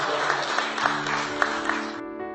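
An audience claps at an evening event: brief, even applause with a steady patter of hands that stops abruptly.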